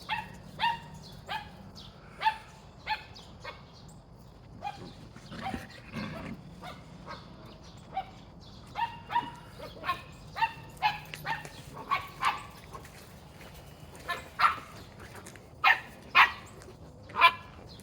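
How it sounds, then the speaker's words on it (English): A dog barks repeatedly at irregular intervals, fairly distant and muffled, with short sharp yaps spread across a quiet background. "You hear that barking underneath there?"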